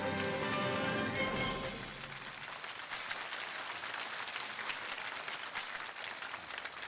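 A lecture-hall audience at a talk in Nairobi breaks into sustained applause, a dense even patter of clapping that carries on steadily after a brief musical sting fades out.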